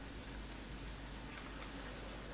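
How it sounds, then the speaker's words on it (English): Rain in the video game Satisfactory makes a steady, dense hiss of falling drops, even and unbroken throughout, with no voices over it. "Ooh, it's raining."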